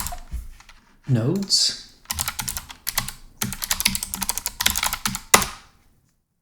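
A command typed on a computer keyboard to check a Meshtastic mesh node, heard as several close bursts of rapid key clicks separated by short pauses, with a brief spoken word early on.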